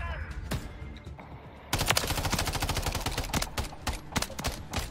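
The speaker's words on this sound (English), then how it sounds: "I love shooting the revolver." Revolver gunfire in Modern Warfare 3, a burst of sharp, close shots in rapid succession over steady game noise, starting quieter and becoming dense and loud partway through.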